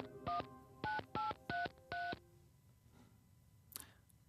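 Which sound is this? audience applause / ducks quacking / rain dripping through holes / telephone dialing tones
telephone dialing tones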